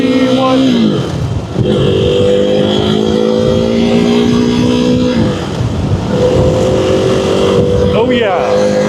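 A KTM Duke 390 motorcycle engine, fitted with a new clutch, revs and pulls through gear changes while riding, loud and close with wind noise, and a rider talks over it throughout.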